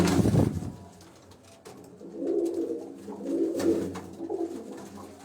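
Pigeons coo on a rooftop in Gujranwala in repeated low, soft rolling calls, with a brief rustle at the start and faint background noise.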